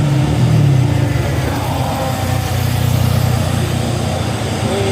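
Hino and Fuso trucks labour along a hill road, a steady low engine rumble and road noise droning continuously at close range with no clear breaks.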